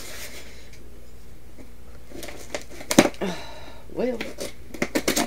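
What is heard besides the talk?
cardboard box being ripped open with a dull knife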